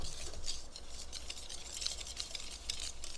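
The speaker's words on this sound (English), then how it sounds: "we're going to whisk that together" Faint soft whisking of brown sugar and chocolate topping in a bowl, a quiet rhythmic swish with light scraping strokes repeating steadily throughout.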